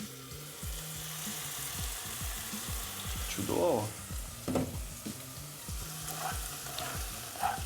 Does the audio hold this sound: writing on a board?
no